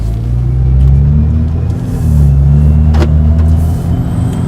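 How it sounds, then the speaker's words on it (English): Loud, steady engine drone from a Stage 2+ tuned BMW 335i with the N54 twin-turbo engine while driving, with a faint high turbo whine riding above the deep rumble. "The only thing I hear is the turbos whining a little bit"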